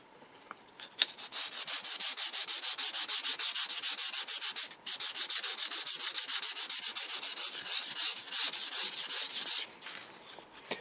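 Sandpaper scrubs grain filler on a wooden RCA Radiola 60 radio cabinet in fast, loud, rhythmic strokes, a continuous harsh rasping with one brief pause midway.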